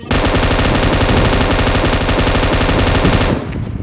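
An M249 machine gun in PUBG Mobile fires one loud, continuous rapid burst of dense, rattling shots lasting over three seconds, then cuts off into a brief fading tail.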